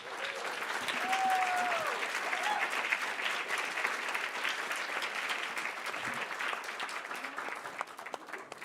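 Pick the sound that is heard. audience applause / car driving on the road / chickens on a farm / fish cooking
audience applause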